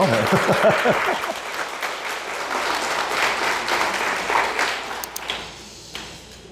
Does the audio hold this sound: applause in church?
yes